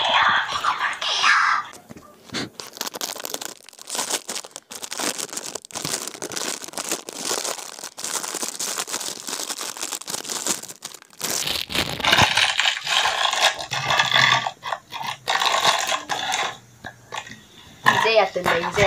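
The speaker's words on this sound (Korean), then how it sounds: "자 이제 비닐 뜯어서 먹어볼게요" Crinkly plastic wrapping is torn open from a pink meringue cookie, giving a long stretch of rustling and crackling with bursts of sharper crinkles, close up, while a voice speaks softly throughout.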